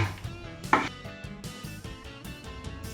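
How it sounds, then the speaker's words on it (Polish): Knife slicing a green cucumber into rounds on a board, a quick run of crisp, close chopping taps with one sharper knock, no talking. "Ogórka kroimy sobie na plasterki."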